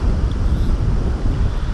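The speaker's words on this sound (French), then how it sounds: "il y a un sale vent" Strong wind buffets the microphone at a carp fishing spot, a continuous low rumbling roar with gusty fluctuations and no voices.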